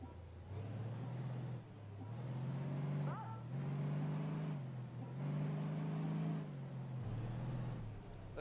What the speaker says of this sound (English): rev that engine